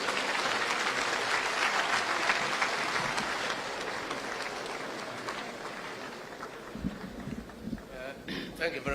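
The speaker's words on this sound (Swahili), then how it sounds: "Makofi." An audience at a formal public event in Kenya applauds the arrival of the Deputy President, sustained dense clapping that fades toward the end as a few voices emerge.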